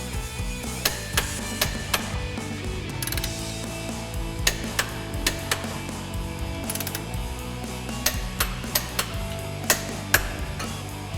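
Bolts on a MKIV rear wheel centering plate being tightened to 55 foot-pounds with a ratchet and torque wrench: repeated rapid ratcheting clicks in short runs, punctuated by sharper metallic snaps, close and clear with no talk.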